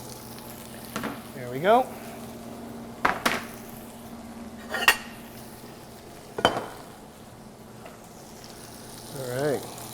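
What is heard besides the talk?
asparagus with butter sizzling in a pan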